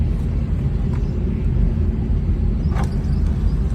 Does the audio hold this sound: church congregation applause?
no